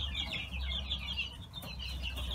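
Young chicks, including dwarf feathered-leg Brahmas, peep steadily and busily in a spacious new coop, with soft clucking and rustling close by and no talk.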